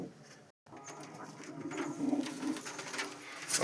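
Pigeons cooing in a loft, a soft overlapping murmur of coos and shuffling from several birds nearby, after a brief silence.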